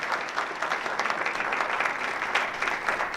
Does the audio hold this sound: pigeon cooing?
no